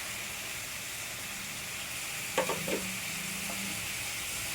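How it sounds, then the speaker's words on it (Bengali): Onion, chili and ginger paste fries in hot oil for a fish curry, giving a steady close sizzle with a short scrape and clatter of stirring midway. "এখানে পেঁয়াজ বাটা আছে, লঙ্কা বাটা আছে, আদা বাটা আছে। আমি তেলের উপরে ছেড়ে দিলাম।"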